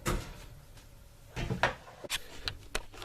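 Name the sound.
oven door being opened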